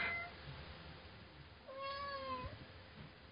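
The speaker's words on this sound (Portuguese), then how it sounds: "Que tanto que mia" A single drawn-out cat meow rises and falls mid-clip over a low background hiss, with a fainter short mew at the very start.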